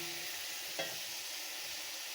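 Pointed gourd with salt and turmeric sizzles steadily in a pan for a garlic potol dish, with a single brief scrape of a spoon stirring it partway through.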